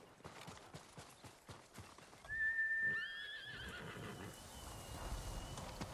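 A horse in the Ghost of Tsushima video game gives a clear, high neigh mid-clip, preceded by steady hoof clip-clop and followed by rustling movement and ambient game sound.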